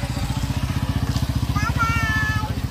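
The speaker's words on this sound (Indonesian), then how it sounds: "Ada motor." A motorcycle engine running nearby on a street, a steady low, pulsing putter throughout, with faint voices and a rising tone over it.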